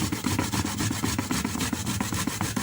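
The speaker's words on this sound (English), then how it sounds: "I'm going to need a grater to grate my ginger." Fresh ginger rubbed against a hand grater, a fast, close rasping scrape repeated in a steady back-and-forth rhythm with no voices.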